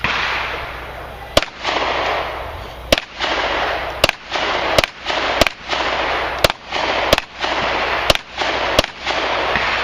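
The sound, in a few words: gunshots fired at a shooting range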